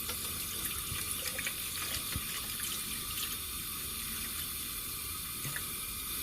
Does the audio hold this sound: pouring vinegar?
yes